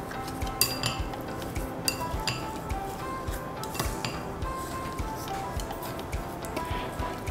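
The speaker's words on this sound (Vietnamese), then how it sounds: "Chúng ta sẽ trộn đều lên." Seasoning of sugar, salt and minced chili being stirred into meat in a bowl, heard as quiet, irregular clinks and scrapes of a utensil against the dish, with no talk over it.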